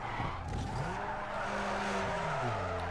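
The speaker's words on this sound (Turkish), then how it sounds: "Yine her zamanki yerde spin attık." A BMW E36 car in the racing game Need for Speed Underground 2 spins out, its tires squealing and skidding over a continuous engine drone with shifting pitch, steady and moderately loud, no voices.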